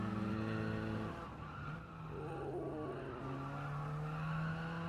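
A race car in a video game, its engine droning loudly and steadily as it accelerates out of a corner, with a rising tire squeal and skid through the middle, heard alone.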